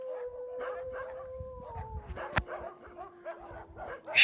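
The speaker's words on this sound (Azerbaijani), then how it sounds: "Canavar sesi, canavar ulaması." A wolf howls at night in a village, a long, steady, falling tone close by, with dogs barking and yipping around it and a few sharp knocks.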